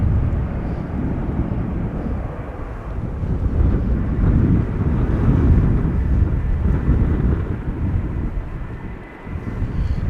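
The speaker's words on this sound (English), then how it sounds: "A340 returning from Paramaribo, Surinam, landing on the center runway." A Surinam Airways Airbus A340, back from Paramaribo, lands on Schiphol's center runway with a loud, steady low roar that swells and eases over about ten seconds, with gusty wind noise mixed in.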